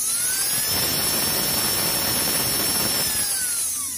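Electric motor of an RC drag car with a high torque 14 mm rotor and low timing, revving up to a loud, high whine that holds steady, then winds down, close by and without talking.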